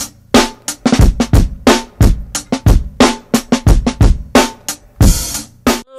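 A looping grimy hip hop drum break with a heavy, booming added kick drum layered underneath, sharp snares cracking in a steady groove, loud and upfront with no voices.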